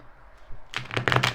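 A deck of tarot cards is shuffled up close, a quick riffling flutter of cards that starts softly and builds into a dense, crisp burst lasting under a second.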